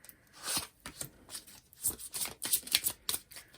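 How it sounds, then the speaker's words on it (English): Romance angel oracle cards shuffled by hand, a quick series of soft riffling and flicking bursts, close and fairly quiet, with no talk. "I'm gonna give them a little shuffle"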